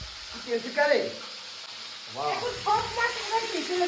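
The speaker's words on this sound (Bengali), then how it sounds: "এইবার কিন্তু ছাকা ছাকা তেলে মাছগুলো গেল চলে" Katla fish fry in deep hot oil, a steady hissing sizzle running underneath voices that talk or sing over it in short phrases.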